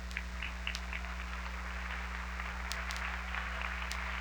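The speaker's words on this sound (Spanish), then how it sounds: "Denle un aplauso al Señor" A church congregation claps for the Lord during a sermon, a moderate stretch of steady applause with a few sharp claps standing out, over a constant low electrical hum.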